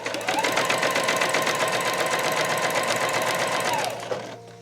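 A sewing machine runs in one continuous fast burst stitching a fabric scrunchie, its rapid even rattle loud and close, then stops with a brief mechanical clunk.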